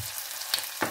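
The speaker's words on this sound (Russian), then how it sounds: "И все это немножко обжариваем." Chopped onion and garlic fry in a pan for a vegetable soup, giving a steady close sizzle with a couple of sharper crackles and no talking.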